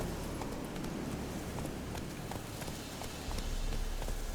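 A horse's hooves clip-clop in The Witcher 3 video game, a quiet run of evenly spaced soft thuds over a constant background hiss, with no voices.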